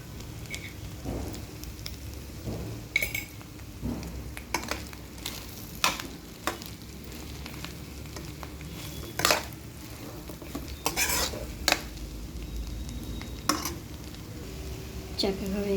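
Bottle gourd fry with chili powder stirred in a pan, giving a steady low sizzle with frequent scraping and clinking of a utensil against the pan, close and moderately loud.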